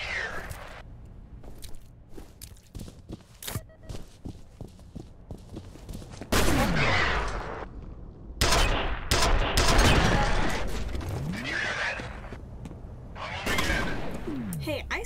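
Shotgun gunfire in the shooter game F.E.A.R., sharp loud blasts and a rattling burst of shots with impact crunches, several heavy bursts near the middle and end, heard alongside game sound.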